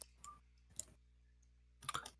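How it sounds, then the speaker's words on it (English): Keyboard typing comes in three short bursts of quick, faint, close-up clicks separated by pauses, and no one talks. "I'm typing this all out"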